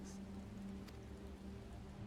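Rain falls steadily in a Final Fantasy XIV cutscene, a faint continuous patter with a low hum beneath it, quiet and unbroken with no voices.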